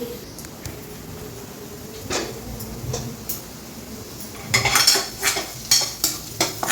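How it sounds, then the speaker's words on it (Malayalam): Food sizzles in a pan with steady frying hiss, while a utensil stirs and scrapes against the metal in short bursts toward the end. "നന്നായി ഒന്ന് ഫ്രൈ ആവട്ടെ"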